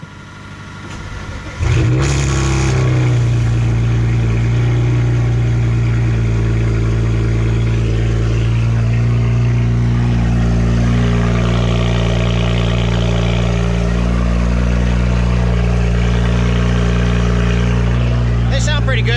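BMW 335i with custom-built race mufflers fires up and settles into a loud, deep, steady idle and rev close by, the exhaust drone holding strong with slight swells throughout.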